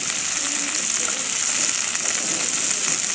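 Onions fry in a pan with brown sugar, giving a steady, close sizzle and hiss throughout with no talking.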